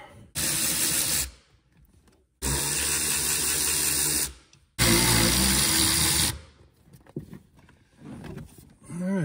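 Cordless driver removing screws from the evaporator housing of a 2000 Chevy Camaro, three loud sustained whirring runs with short gaps, then a brief quieter stretch, close to the microphone.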